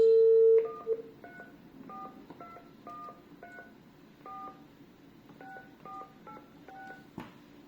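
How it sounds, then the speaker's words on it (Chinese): Keypad tones from an ECG-405 corded caller ID telephone: a long steady tone, then a series of short distinct dual-tone beeps pressed in irregular quick succession, clear and close, ending with a soft click. "另外测一下这客户样机的拨号"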